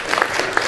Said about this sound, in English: Let's everybody give yourselves a round of applause.